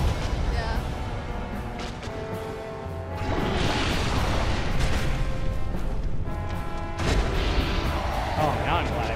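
Explosion in the video game Dark Souls Remastered, a broad booming crash that swells in the middle and again near the end amid continuous game noise.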